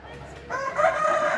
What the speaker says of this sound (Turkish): Horoz burada.